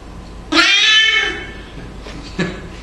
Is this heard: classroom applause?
no